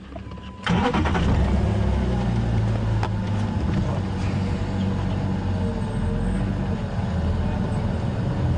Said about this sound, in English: I'm just going to move the car quickly.